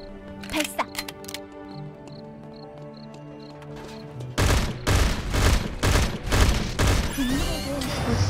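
Gunfire in the video game Eternal Return with an assault rifle: a few scattered shots and in-game cues at first, then a dense loud burst of rapid fire crackling for several seconds.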